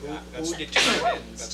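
A single abrupt sneeze bursts out during a school committee meeting, sandwiched between bits of spoken discussion in a room.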